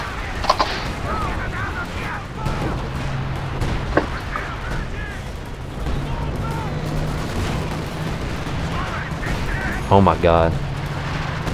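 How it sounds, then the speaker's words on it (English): Artillery barrage fire in Company of Heroes 2 rumbles and thuds across a busy multiplayer battle, with booming impacts and a burst of rapid gunfire toward the end, under a player's excited commentary. "I got the artillery barrage firing his base"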